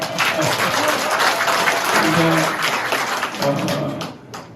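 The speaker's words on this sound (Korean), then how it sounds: "박수 한번 하겠습니다." A crowd at a presidential candidate's meeting with someone claps together, a loud, dense burst of applause that tapers toward the end, with voices mixed in.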